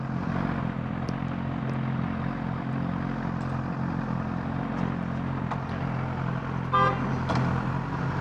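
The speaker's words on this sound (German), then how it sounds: "Da hupt ein kleiner Bastard." Traffic rumbles along a city street, the Schlossstraße in Berlin, and near the end a short car horn toot sounds once over the steady engine noise.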